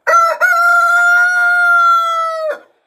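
A rooster crows loudly and close, a single long drawn-out call held steady for over two seconds before cutting off into silence.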